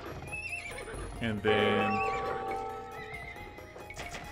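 Horses in the Age of Empires II video game neigh and whinny, with hooves clip-clopping, one loud whinny standing out mid-way over quiet game sounds while someone talks briefly.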